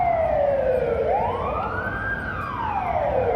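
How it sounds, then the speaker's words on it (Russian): An ambulance siren wails loudly, sweeping down then up and down again as it passes close by, over a steady background of traffic noise. "там скорая несется где-то"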